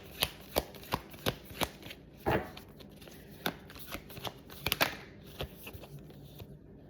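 Tarot cards shuffled by hand at close range: a steady series of sharp, evenly spaced card snaps and riffles, fairly quiet, with no voices over them.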